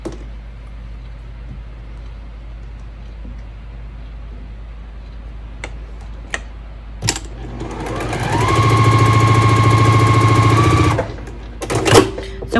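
An electric sewing machine stitches quilt rows, starting with a few clicks over a steady low hum, then running loud and fast in a sustained whirring burst for a few seconds before stopping, all up close.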